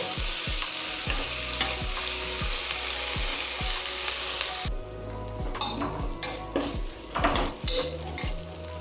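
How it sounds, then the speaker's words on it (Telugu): Ginger garlic paste frying in a pan, a steady close sizzle with a spoon repeatedly scraping and stirring against the pan in irregular knocks, the sizzle dropping back partway through while the stirring continues. "ఆ అల్లం వెల్లుల్లి పేస్ట్లో బాగా రా స్మెల్ అంతా పోయే వరకు మనం వేయించుకోవాలి"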